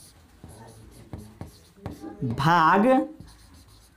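Pen or marker scratching out a Class 10 maths solution on area of a shaded region by hand, with short strokes and taps under a teacher's steady speech in Hindi.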